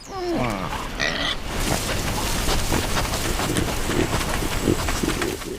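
A pig grunts and snorts steadily under a constant wash of hiss and background noise, with a few higher squeaky calls early on.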